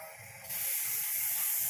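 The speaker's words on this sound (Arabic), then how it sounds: "هنا نسخني المقلاة تاعك مليح وبداي طيبيه في لي بانكيك تاعك" Pancake batter meets a well-heated frying pan with a bright, steady hiss of sizzling that jumps louder about halfway and holds, close and continuous, with no talking.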